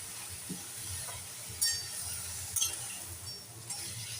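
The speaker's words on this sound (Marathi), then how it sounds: "आता ही चांगली परतून घेऊया आधी" Red amaranth greens sautéed in a pan, a low steady sizzle with a few scraping strokes of a spoon against the metal, close by.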